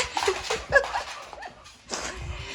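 Pet dog whimpering softly in a home, a few faint whines near the start and again later, mixed with quiet indoor shuffling and light background noise.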